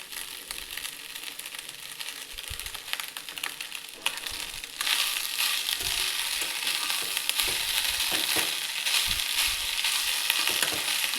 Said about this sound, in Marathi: आपण आता भाताला छानपैकी परतून घेऊ